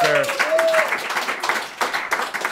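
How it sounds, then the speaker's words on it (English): Audience at a casual studio show applauding guests, a brief patter of clapping from a small group, with a voice heard at the start over the claps. "So a round of applause for them, please."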